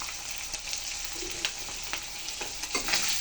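Green chilies with grated onion and garlic sizzle steadily in hot fish oil while being fried for a puti fish recipe, with a bright crackling hiss and a few sharp spatula scrapes and clicks close by.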